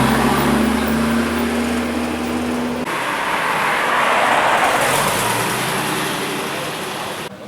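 A car drives along a narrow street in Monaco, its engine note loud and close before giving way to a broad rushing roar as it passes, fading slightly at the end.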